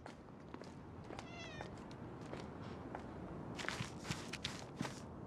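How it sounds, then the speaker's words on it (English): A cat in a video game trailer gives a short meow amid light footsteps and soft trailer sound effects, with sharper scuffs and clatter building toward the end. "Okay, that's a cat."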